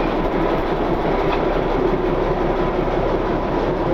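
Darjeeling toy train running on its mountain railway line near Ghum station, a steady, loud, continuous rumble with rail clatter throughout, close by and with no speech.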